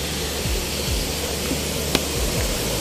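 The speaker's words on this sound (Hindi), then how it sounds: "पानी की झर झर झर झर।" Jogini waterfall near Manali rushes in a loud, continuous roar of falling water with constant spray, steady throughout with no voices.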